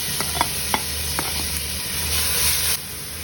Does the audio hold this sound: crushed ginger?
yes